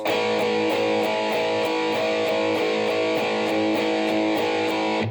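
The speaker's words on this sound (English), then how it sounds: "if I was to pick this chord here with a perfectly kind of balanced down and upstroke" A guitar chord strummed repeatedly with balanced down and upstrokes in an even, steady rhythm, each stroke evenly weighted with no accents, ringing continuously.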